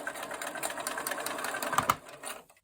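A sewing machine runs steadily as it stitches a quarter-inch seam joining quilt fabric squares, a close, continuous whir that stops abruptly near the end.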